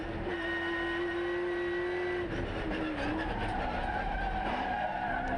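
A V8 touring race car engine at Wakefield Park drones steadily at high revs, its pitch dipping and wavering as it passes, loud and continuous.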